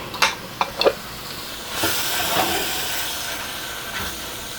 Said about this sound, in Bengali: অনবর্ত নেড়ে নিতে হবে ঝিঙে থেকে পানি বের হয়ে যাবে আর এই পানি দিয়ে এটা ভাজা হয়ে যাবে